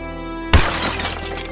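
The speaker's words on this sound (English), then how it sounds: "When suddenly I heard the windows being smashed." Window glass smashes in a single sudden, loud shatter that breaks through a quiet hum, followed by a tail of scattering, tinkling shards fading out over about a second.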